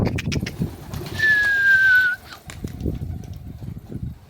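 A bird gives one clear whistled call lasting about a second, with a faint dove-like coo in the mix, heard outdoors during a bird-hunting trip amid rustling background noise.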